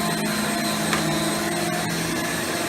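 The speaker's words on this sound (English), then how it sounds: "very slowly but surely the brush roll pulls the power nozzle along the carpet" A Rainbow D3c canister vacuum's power nozzle runs with its brush roll turning on carpet, a loud continuous motor whine and roar, steady and close, with no breaks.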